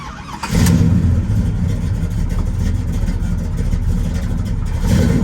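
A 1969 Chevrolet Chevelle SS 396 V8 with a 4-speed, not yet fully warmed up, runs loud and close, a steady deep rumble with a slight swell near the start and end, and no voices.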